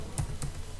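Three crisp keystrokes tapped on a computer keyboard while writing code, close-up and evenly spaced, with no talking.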